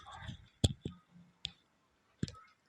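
A few sharp mouse clicks ring out close and crisp with brief pauses between them, while someone whispers quietly in the background.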